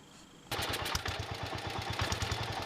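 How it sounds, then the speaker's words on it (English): A John Deere 110 lawn tractor engine starts up and runs with a rapid, steady knocking from a rod knock, loud and close after a brief quiet lead-in. "I don't like that knocking noise. That sounds like a rod knock"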